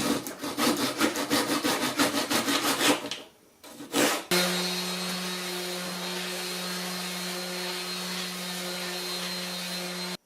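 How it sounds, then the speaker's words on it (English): A wooden dowel is hand-sawn, with steady rhythmic back-and-forth strokes up close for about three seconds, a short pause and a final stroke, then a constant low electric hum like a vacuum or dust extractor running. "So I find it's easier to make it about 3 inches too long and then cut the 3 inches off"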